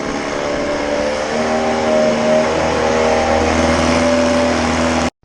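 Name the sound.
boat outboard engine running in a bucket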